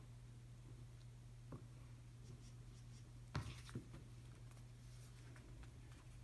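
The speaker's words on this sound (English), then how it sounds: "So I'm just tracing with the grease pencil." Grease pencil traced over a sheet of 3/32-inch Nano Splint thermoplastic splint material, giving faint, soft scratchy strokes with a few light taps over a steady low hum.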